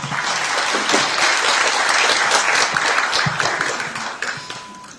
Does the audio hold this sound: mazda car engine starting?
no